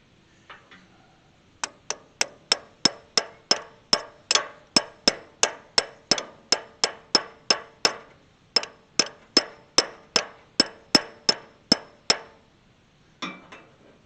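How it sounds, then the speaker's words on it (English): Metal seal cap being tapped onto a trailer wheel bearing hub, heard as a long, evenly spaced run of sharp, close ringing taps with a short pause midway and a final pair of softer hits. "Now I just take our seal cap, carefully put that over it."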